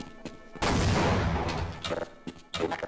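A laser trip mine from Half-Life goes off in a ray-traced version of the game, giving a loud, sudden blast that rumbles and decays, followed by scattered crashing debris sounds.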